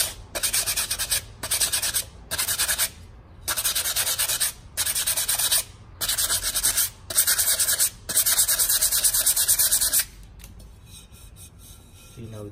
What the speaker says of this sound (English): So I'm gonna sandpaper this edge.